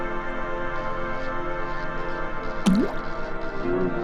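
Liquid dripping in the horror puzzle game Bulb Boy, a single wet, squishy drip with a short sliding pitch over a steady game music drone, followed by a fainter second tone.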